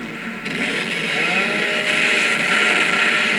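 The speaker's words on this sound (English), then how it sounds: "Chainsaw my way straight through the wall" A Lancer chainsaw in Gears of War 2 cuts through a wall with a steady, loud, buzzing grind that holds throughout without a break.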